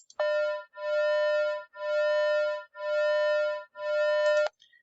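Electronic tones at 200 and 201 hertz combine into a single hum that pulses in loudness roughly once per second, five even swells with near-silent dips between, clean and steady with no talk.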